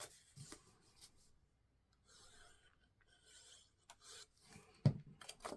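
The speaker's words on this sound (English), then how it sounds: "I'm going to go ahead and burnish that." Paper being burnished by hand during a small photo folio craft project: soft, quiet rubbing strokes in short bursts separated by near silence, with a few sharper taps toward the end.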